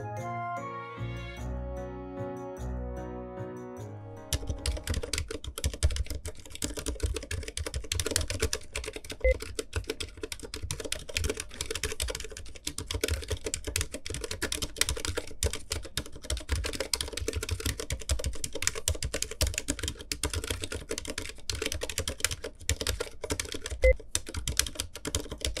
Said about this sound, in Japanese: タイピングした時の音を紹介しますね。